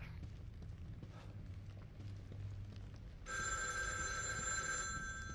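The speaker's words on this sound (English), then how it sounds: "Of course the phone rings." A telephone rings in The Evil Within 2, a shrill electronic bell that starts partway through and continues steadily over a low, dark game ambience.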